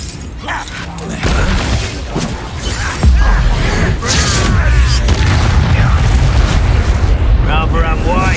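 Incendio fire spell blasts in the video game Hogwarts Legacy, a series of heavy booming bursts and crackling impacts layered over combat clatter, loud and close, with character voices speaking amid the action.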